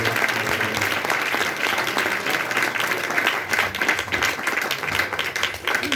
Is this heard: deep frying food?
no